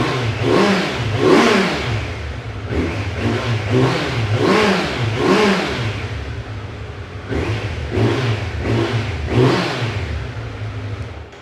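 A motorcycle engine with stock exhaust revs repeatedly, rising and falling in a steady rhythm of throttle blips over a low idle, loud and close.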